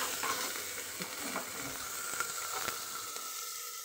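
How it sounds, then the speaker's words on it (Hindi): Onions frying fast in a pan on high heat, a constant close sizzle and crackle with small pops and stirring, steady throughout with no talking. "प्याज मेरी जल्दी भून रही है।"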